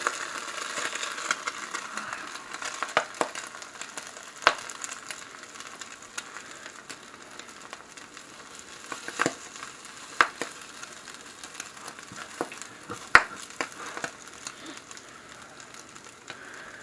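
Eggs frying in a pan for a breakfast sandwich, a steady soft sizzle with scattered clicks and scraping of a spatula, no talk.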